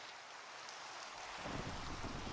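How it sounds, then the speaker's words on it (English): Steady rain hiss swelling into a heavier storm roar about midway, with low rumbling underneath, continuous and enveloping with no speech. "Oh, it's actually a storm."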